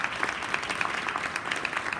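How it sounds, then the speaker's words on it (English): Steady, fairly faint applause from an audience thanking a panel after a moderated conversation at a Minnesota community business event, continuous claps throughout. "Let's give them all a round of applause."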